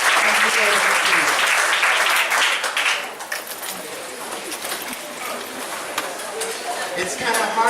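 Loud applause for a speaker at a talk fills the opening seconds, then fades to scattered clapping while a voice speaks.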